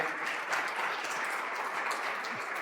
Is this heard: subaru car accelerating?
no